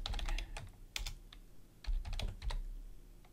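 Fingers type on a computer keyboard while entering a Windows registry value. Close, irregular clicks come in quick runs and short pauses, with no voice over them.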